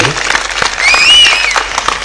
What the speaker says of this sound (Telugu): చప్పట్లు కొడదామండి యెహోషువ గారికి